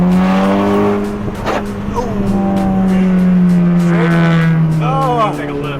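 A loud all-wheel-drive hot hatch, a Focus RS or Golf R, revs hard and accelerates with a rising, then falling engine note, its exhaust close and dominant throughout, while voices talk over it.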